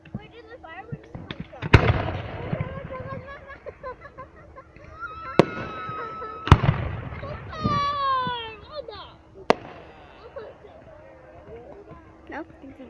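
Canada Day fireworks go off outdoors: three sharp booming bursts spaced a few seconds apart, with rising whistles and crackles in between, while nearby adults and children talk and call out.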